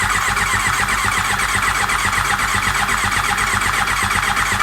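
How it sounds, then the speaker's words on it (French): Starter cranking on a Suzuki GSX-R 1000 K9 motorcycle engine after an engine block replacement, a steady loud continuous whirring churn with no pauses and no speech. "le démarreur se met en route"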